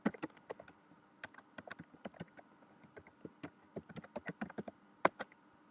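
Quick, irregular clicks of fingers typing on a computer keyboard into a search bar, close and fairly quiet, with short bursts and pauses and one sharper keystroke near the end.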